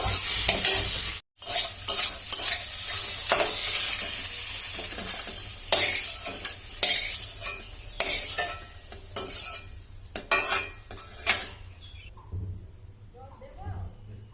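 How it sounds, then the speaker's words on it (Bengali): Bitter gourd pieces frying in oil in a pan, with continuous sizzling and repeated stirring scrapes, a brief silent gap near the start and the frying fading out toward the end. "তো আমার উচ্ছেগুলো ভাজা হয়ে গেছে, তো বেশি কড়া করে ভাজবো না, এরকমই করে ভাজবো ঠিক।"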